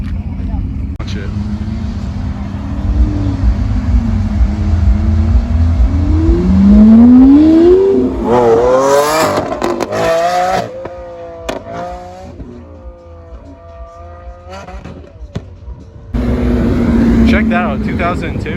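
A Porsche Carrera GT at a car show revs and accelerates loudly, its engine note climbing in sweeping rising pitches, then harsh throttle blips with brief pauses, and another surge near the end, amid crowd chatter and voices.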